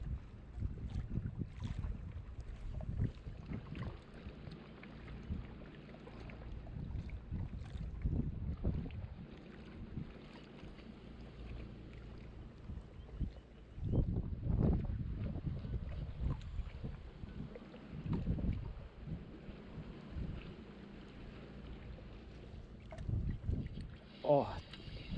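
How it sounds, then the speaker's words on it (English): Strong wind buffets the microphone at a fishing spot, with gusty low rumbles that surge and ease throughout, beneath occasional talking and water sounds. "It's really, really strong wind, guys"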